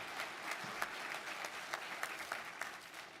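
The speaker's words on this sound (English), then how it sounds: "Please, just a quick round of applause." An awards ceremony audience at a sword-casting competition gives a quick round of applause, dense steady clapping from a crowd in a hall with a few louder individual claps standing out.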